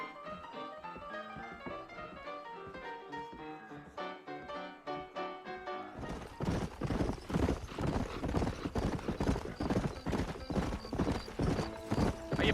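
Horses clip-clop in the Western video game Red Dead Redemption, with steady hoofbeats under game music that grow louder and busier partway through.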